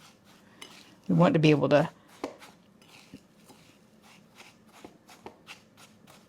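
A spoon stirs a crumb crust mixture for a cream cheese tart in a bowl until it looks like wet sand. Light clinks and scrapes repeat steadily, with a brief spoken phrase early on.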